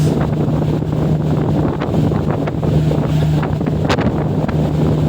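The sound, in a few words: wind blowing at the port during the boat trip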